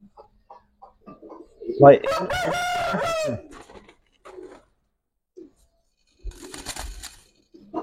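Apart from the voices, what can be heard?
military and lalpatti pigeons cooing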